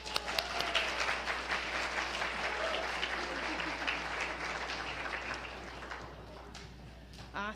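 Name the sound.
applause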